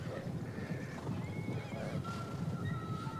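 Horses of horse-archer cavalry whinny and neigh amid a steady battlefield din in the video game Total War: Attila, with a few drawn-out calls rising over the continuous rumble.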